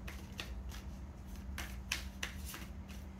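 Deck of tarot and oracle cards being shuffled, a steady run of soft riffling flutters and card slaps close by over a low background hum, with no talking.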